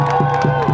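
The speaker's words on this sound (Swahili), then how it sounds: "Makofi kwa Mheshimiwa Samia Suluhu Hassan." A crowd at a Tanzanian government rally cheers and claps, a short loud burst of mixed voices and whoops with rhythmic shouts rising over the din.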